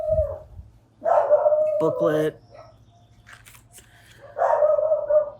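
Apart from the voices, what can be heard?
dogs barking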